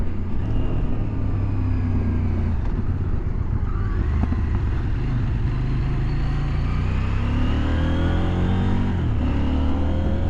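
A 2023 CFMoto IBEX 800T motorcycle engine runs at full throttle, a loud, steady, close drone that climbs in pitch through the gears, with brief dips at the shifts of a quick shifter.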